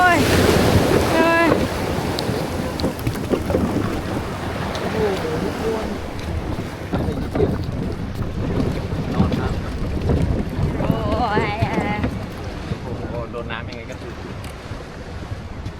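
Diesel boat engine on the sea, a rough continuous rumble mixed with wind buffeting and splashing waves, with a few faint voices in the background.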